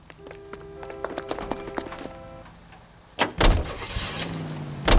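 A vintage car from the game L.A. Noire starts off, with a door thunk and engine surge near the end after a stretch of ambient music and clicks.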